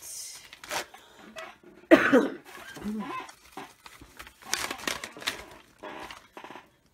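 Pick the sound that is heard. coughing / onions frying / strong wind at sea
coughing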